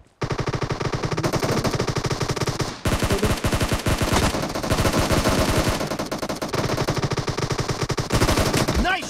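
Rapid automatic gunfire from the PUBG video game rattles on continuously and loudly, with dense overlapping bursts, a brief break partway through, and game sound layered around the shots.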